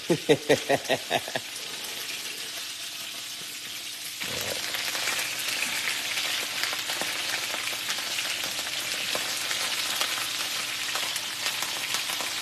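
Chicken wings fry in a pan with a steady, close crackling sizzle that swells louder after a few rhythmic knocks at the start, with occasional sharp pops throughout.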